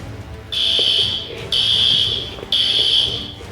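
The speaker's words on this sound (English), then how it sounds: "The fire alarm's going off." A loud fire alarm blares during a fire drill in three long, shrill electronic bursts separated by brief pauses, with no voices.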